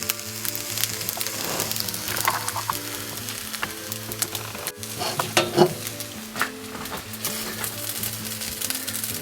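Filipino garlic fried rice sizzles steadily in a hot pan as it is scooped and served, with a constant close frying hiss and intermittent scraping stirs of the utensil throughout.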